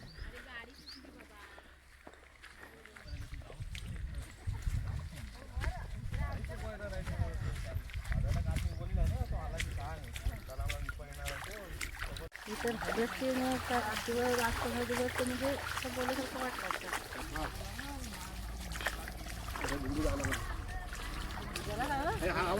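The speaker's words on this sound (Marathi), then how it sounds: "तुम्ही सावकाश होडी चालवा" A passenger boat carries people along the water near Dapoli, its low engine rumble running steadily underneath close, continuous talk from people aboard.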